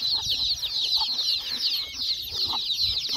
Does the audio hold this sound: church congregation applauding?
no